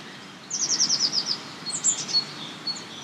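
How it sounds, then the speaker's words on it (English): A small bird sings a rapid, high trill of repeated notes, followed by a few scattered chirps against quiet outdoor background. "I love listening to the birds."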